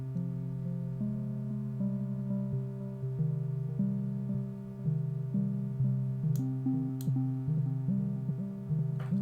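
A modular synthesizer plays a sustained bass note mixed with stepping arpeggio notes that jump abruptly between pitches with no slew smoothing, moderately quiet and steady throughout, with a couple of faint clicks.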